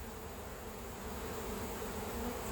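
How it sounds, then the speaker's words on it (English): Honey bees swarm over a honey frame, giving off a steady, dense buzz that stays loud and even throughout, with no voices. "We've got to get all the bees off of it."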